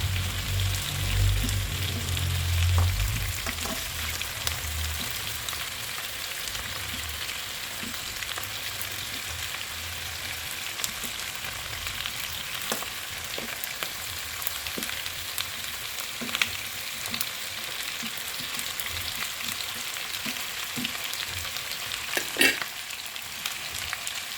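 A long stretch of potatoes sizzling in oil for chicken adobo, an even crackle with low thumps at the start and a few sharp clatters of utensils.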